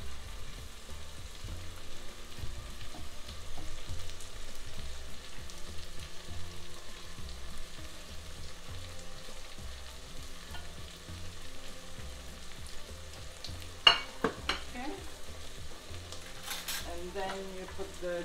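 Onions frying in a pan for chicken curry, a steady sizzle with rhythmic scraping stirs throughout, plus a few sharp clinks of a utensil near the end, close and moderately loud with no talking.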